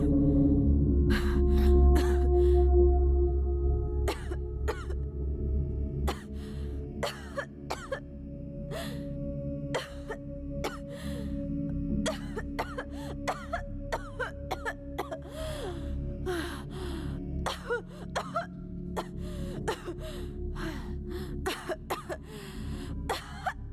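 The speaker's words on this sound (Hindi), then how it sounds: "खांसी को थोड़ा कंट्रोल करो ना प्लीज" A woman on a film set in a Hindi-dubbed horror movie coughs and clears her throat again and again in short, sharp bursts spread across the scene, over a low background hum.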